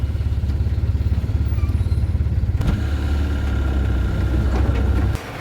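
A goods truck's diesel engine rumbles with a steady low throb as the truck pulls away after refuelling. The sound is loud and close, shifts partway through and drops slightly at the end.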